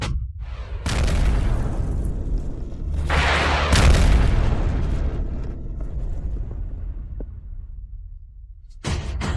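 Artillery fire and explosions in a war drama, heard as heavy booming blasts with sustained rumbling, two strong detonations standing out early, then a long, fading roar and a fresh blast at the end.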